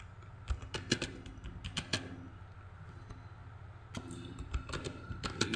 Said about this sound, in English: you can type like this